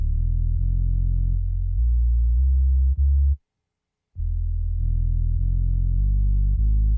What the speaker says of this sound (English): So it's just a little distortion to distort it a little bit.